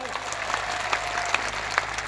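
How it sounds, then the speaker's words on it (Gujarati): A rally crowd claps for police officers, a dense burst of applause with a few louder individual claps standing out, while voices carry underneath. "એમના માટે એકવાર જોરદાર તાળીઓ પાડ લો"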